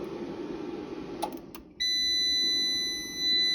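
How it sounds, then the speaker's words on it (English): An off-grid solar inverter's steady electronic beep starts abruptly and holds as a continuous high tone, becoming slightly louder near the end, over a low background hum. "Every now and then it beeps and then it just switches itself back on again."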